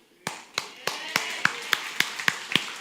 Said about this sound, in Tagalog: Alam ko kung saan kayo pumalakpak.